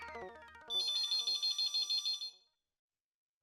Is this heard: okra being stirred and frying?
no